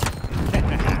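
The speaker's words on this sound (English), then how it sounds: "Another with the rocket launcher" Rocket launcher firing in Call of Duty: Warzone, a loud low boom with rumbling blast debris filling the short burst, mixed with other gunfire and game noise.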